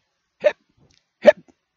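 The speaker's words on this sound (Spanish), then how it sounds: "A Candice le da hipo." Two sharp hiccups from a young woman in an animated drama, spaced under a second apart and heard alone against silence, the second followed by a faint little catch.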